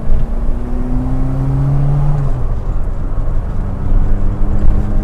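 A classic Austin Metro's engine droning from inside the cabin while driving at around 40 mph, a loud, steady low rumble with a whining tone that slides and shifts as revs change, plus road noise.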